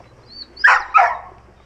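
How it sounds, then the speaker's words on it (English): A found puppy gives two short, sharp yelping barks in quick succession, loud and close, preceded by a faint high whine. "We cannot leave this dog's sight or it cries like a baby."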